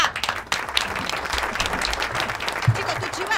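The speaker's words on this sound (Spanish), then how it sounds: "¡Aplauso para Grama!" A crowd bursts into loud, sustained clapping and cheering, with voices shouting over the applause.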